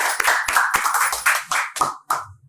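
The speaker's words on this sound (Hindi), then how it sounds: "ताली बजाकर उनका स्वागत करें।" An audience at a poetry recital claps to welcome a poet, a burst of hand claps in uneven bursts that thins out and fades near the end, with no voices over it.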